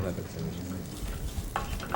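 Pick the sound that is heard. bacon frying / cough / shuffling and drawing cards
bacon frying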